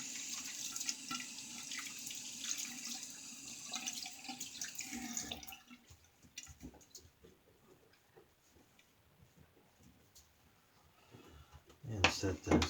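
Tap water runs steadily into a shaving lather tub as it is rinsed out, a soft splashing flow that stops midway, followed by faint knocks and a louder clatter of the tub at the end.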